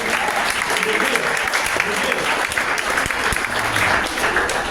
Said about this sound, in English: Y'all gotta give her an applause for that.